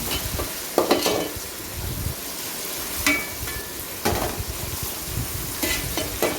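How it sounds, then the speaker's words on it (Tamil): Mint leaves sautéing in hot oil with onions for a one-pot chicken biryani, a steady sizzle broken by several sharp scraping stirs of a spoon against the pot, close and fairly loud with no talking. "புதினாவும் அந்த எண்ணெயில் நல்லா வதங்கிட்டோம்"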